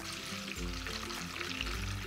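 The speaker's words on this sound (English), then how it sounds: "So first we're gonna pour in the water." Warm water pours steadily from a jar into a toy doll bath, a continuous splashing stream with no talk over it.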